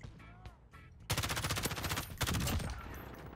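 Loud, rapid bursts of M13 assault rifle fire in a Modern Warfare match, starting after a quiet moment and running almost continuously in dense volleys with a short break midway.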